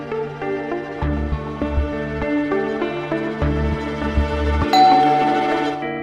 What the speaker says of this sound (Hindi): कभी दरवाजे की घंटी, बस यही काम करती रहूं मैं।